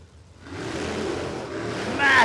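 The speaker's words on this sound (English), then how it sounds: "Got that classic supercharged lope to this Tirana." A supercharged nitro drag racing car at Warwick Dragway, Australia, runs with a loud, close, choppy lope, a steady broadband roar that swells louder at the end.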